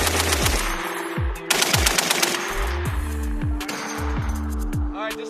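Machine guns fire on a live-fire range during a Korean Marine training exercise, loud repeated bursts and single heavy shots cracking close by and echoing, with a dense rattling volley near the start.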